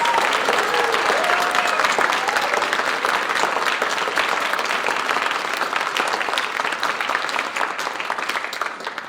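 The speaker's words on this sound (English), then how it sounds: "Please give them all one huge round of applause." An audience at a creative technologies graduation ceremony gives sustained applause for the graduates, with dense clapping that gradually fades toward the end.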